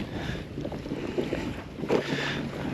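Wind gusts over a fishing boat out on the water while someone fishes for tautog with green crab bait, making a continuous rough buffeting on the microphone with low rumble and a couple of stronger gusts.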